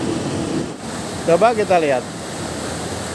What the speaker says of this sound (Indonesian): Ini ombak ini sangat luar biasa dahsyatnya